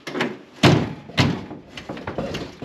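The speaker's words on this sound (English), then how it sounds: "Uh-oh, door won't open." A stuck door is forced open in a series of thumps and knocks, three stronger hits and smaller taps, fairly close and with no speech.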